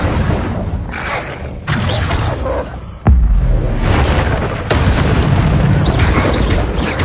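Incendio fire spell from the Hogwarts Legacy video game, a sharp heavy boom that flares into a sustained roaring whoosh of flame, loud and close amid other combat effects.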